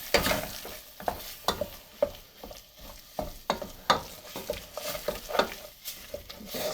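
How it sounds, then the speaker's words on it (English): Chili paste for dehydrated keto chili sizzles in a pan on a backcountry camping stove, with steady soft frying and frequent scraping clicks from a utensil stirring, close and fairly quiet. "it's kind of calmed down a little bit as far as like the sizzle here"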